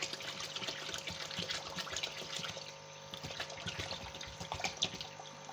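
Water pours steadily into a pot of beef nihari set to cook slowly over low heat, a continuous close splashing trickle with no talk.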